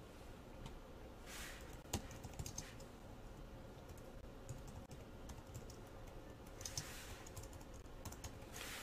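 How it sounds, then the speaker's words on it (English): Quiet, steady typing on a computer keyboard while coding, a continuous patter of light key taps with a few slightly louder clicks, heard alone with no talking. "so I can just hit the tab on my keyboard"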